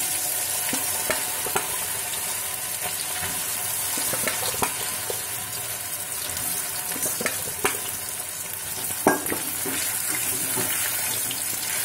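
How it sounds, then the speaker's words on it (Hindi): Soya chunks sizzling in hot oil in a kadai, a constant fizzing hiss with occasional sharp pops and stirring clinks, heard alone at moderate level. "अब इस सोयाबीन को हम इसमें फ्राई करेंगे।"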